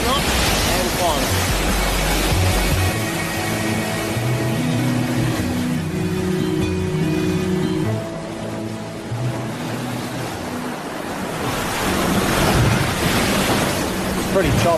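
Wind rushes and choppy sea water sloshes aboard a sailing boat on the Pacific, a constant broadband roar with surges and a quieter lull midway, while a person talks over it.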